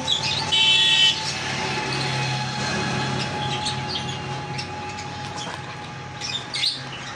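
Small cage birds, including Java sparrows, cockatiels and Fischer's lovebirds, chirp and tweet in quick bursts, loudest near the start and again near the end, over a steady background hum.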